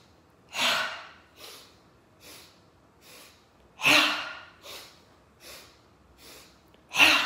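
Sharp nasal sniffing inhalations in a yoga breathing exercise, a series of quick in-breaths in pulsing groups with quieter exhales between, close and clear with no talking.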